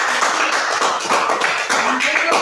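A group of children in a classroom claps their hands together, a dense, loud patter of claps from nearby that keeps up steadily for a couple of seconds.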